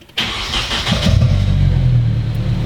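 A car's engine is started with the key in the ignition. A brief crank catches at once and settles into a loud, steady idle close by, with no voices.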